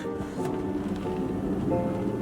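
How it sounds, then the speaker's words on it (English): Heavy rain drumming on a car windshield, a dense continuous patter heard close up from inside the car. "I hope you don't just hear raindrops because yeah, you're like right on the windshield"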